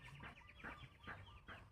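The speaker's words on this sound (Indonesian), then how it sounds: "perkutute wis do saut-sautan bolo" Zebra doves (perkutut) calling back and forth, giving about four evenly spaced, bright cooing phrases close by against a faint background hiss, with no talking.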